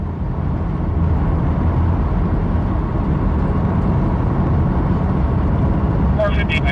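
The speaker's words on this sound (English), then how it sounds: "Traffic." Road traffic gives off a steady, broad rumble of passing vehicles, moderately loud and continuous, with muffled voices underneath.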